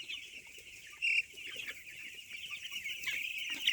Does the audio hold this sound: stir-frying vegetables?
no